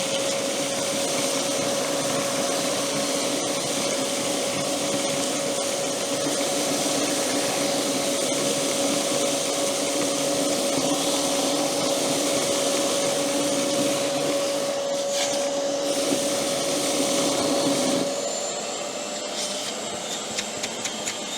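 A wet/dry vacuum cleaner runs loud and steady with a constant motor whine and rushing airflow, then winds down near the end with a few faint clicks.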